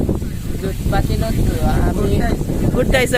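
Loud, steady wind buffets the microphone outdoors in a riverside village in the Barak valley, with a low rumbling roar throughout and people talking faintly beneath it.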